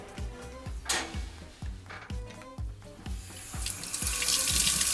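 A washing machine filter being rinsed under a running sink tap, a steady stream of water splashing with repeated low knocks as the filter is handled, growing into a louder rush near the end.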